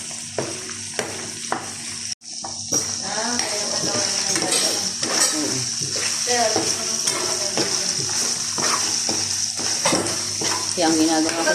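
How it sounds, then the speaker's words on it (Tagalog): Food sizzles steadily in a frying pan as a utensil stirs and scrapes against it, with clinks of cookware and a voice talking over the continuous frying noise. "Prito ko na lang siya ganito."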